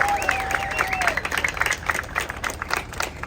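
An audience at a car meet-and-greet bursts into steady applause and clapping, dense and lively, with a couple of whistles near the start and crowd chatter mixed in.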